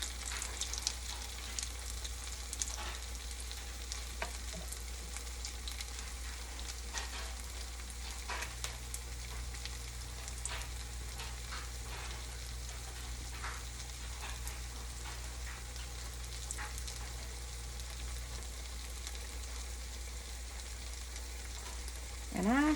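Potato pancakes frying in a pan, a steady soft crackle and sizzle of hot oil with scattered pops, continuous and fairly quiet throughout, with a faint low hum underneath.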